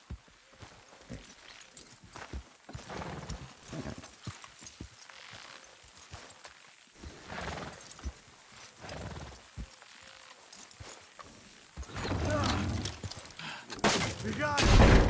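Horses clip-clop in Red Dead Redemption 2, with a loose, repeating patter of hoofbeats that swells louder toward the end, mixed with other game sounds and voices talking.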